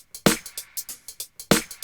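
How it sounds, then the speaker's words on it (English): Two snare drums stacked together in a hip hop beat crack out in a tight double-time pattern, two heavy hits landing among lighter quick strikes, dry and close with no other instruments. "That's 2 snares together."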